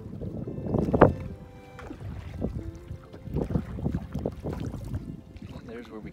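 Canoe out on Timothy Lake on a breezy, cloudy day, with paddle splashes and water knocking against the hull close by, light wind buffeting the microphone, and people talking intermittently over it.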